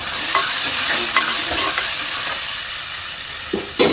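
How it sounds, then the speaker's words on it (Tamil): Tomatoes and onions sautéing in a pan for mushroom biryani, a steady loud sizzle broken by occasional scrapes and stirring clicks, with no one talking. "தக்காளி நல்லா வதங்கட்டும்"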